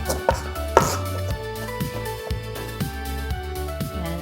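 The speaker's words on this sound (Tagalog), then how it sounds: "Chop na muna natin yung ating garlic." A knife chops garlic on a cutting board in quick, steady strokes, about two per second, close and distinct with a light sizzle underneath and no talking.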